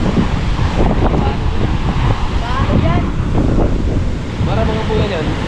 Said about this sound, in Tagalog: sarap kasi ng hangin dito, oh.